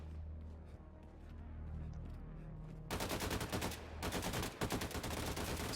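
Gunfire in the game Mein Leben, aimed through a grated fence from behind a solid wall. A quiet rumbling lead-in gives way to loud rapid automatic bursts in the latter half, with short pauses between volleys.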